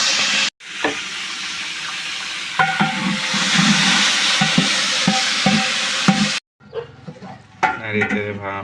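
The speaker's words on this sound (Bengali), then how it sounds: "এটা ভেজে নিচ্ছে।" Food frying in a pan at a winter picnic in Uposhohor park, a busy sizzle with stirring clatter, cut by a brief gap, then voices speak near the end.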